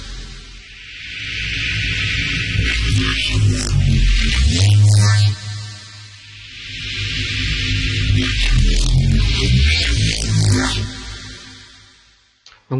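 Deep Serum synth bass notes for drum and bass throb under a washy, compressed reverb tail, swelling in two long loud phrases before fading out.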